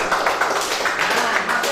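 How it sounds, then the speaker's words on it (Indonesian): A roomful of participants at an academic supervision session applauds a discussion group, giving a dense, steady patter of many hands clapping at moderate loudness, with some voices underneath. "Tepuk tangan untuk kelompok 1."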